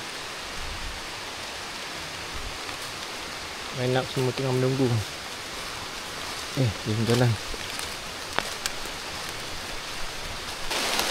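Steady rain hisses through the rainforest on a trek toward Gunung Tahan, Malaysia, a constant wash of drops on leaves and ground, while a few hikers speak briefly in the middle of the downpour.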